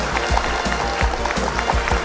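At a student Hindi quiz competition finale, the crowd gives loud, continuous clapping to welcome the first runner-up, rapid and dense throughout.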